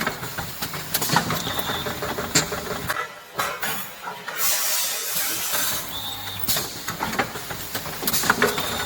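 A horizontal packing machine filling and vacuuming bags of hops and coffee beans gives off steady mechanical whirring and hissing with repeated clicks and clunks, a brief lull partway through, then the rhythmic cycling resumes.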